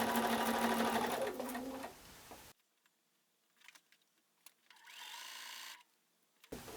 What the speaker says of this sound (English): We should be able to chain piece them and then chain piece them again.